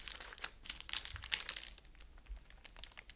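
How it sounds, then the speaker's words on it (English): Parchment paper gently peeled off a baking tray after a sponge cake for a Yule log, soft close crinkling and light tearing rustles, faint and intermittent. "very gently just removing the parchment paper that was sitting on the tray"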